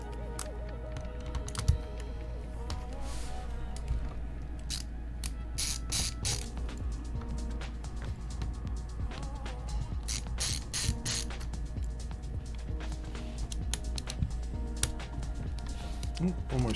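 Screws being backed out of a small metal plate on a liquid-damaged Lenovo Ideapad 700-17ISK laptop, giving repeated faint ratcheting clicks and scraping taps up close over a steady low hum.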